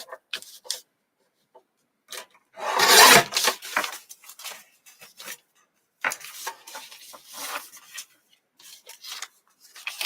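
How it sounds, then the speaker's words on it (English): Paper pages of a Kings & Queens junk journal being trimmed with a paper trimmer, giving dry rasping, scraping strokes in short bursts, one longer louder pass near the middle, close and without talk. "And just trim down these pages. I'm literally going to just take off a fraction."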